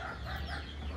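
Desi hens clucking nearby, soft low clucks and murmurs from free-range country chickens, faint and brief, with no speech over them.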